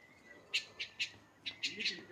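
Birds chirp at a village school in Uganda, about six short, bright chirps in quick, uneven succession, fairly faint against a quiet background.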